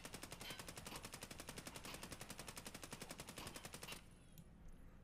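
Fully automatic hipfire in Escape From Tarkov, a sustained rattling stream of closely spaced shots for about four seconds, then stopping abruptly into a quiet tail.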